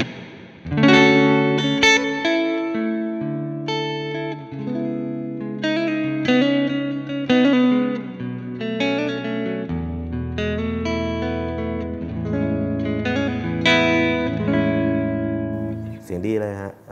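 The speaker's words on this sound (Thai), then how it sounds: "เดี๋ยวผมลองเสียงรีเวิร์บให้ฟังคร่าว" Electric guitar played through an Ox Amp Top Box with reverb, clear picked notes and chords ringing out with long, washing tails, loud and alone without talk.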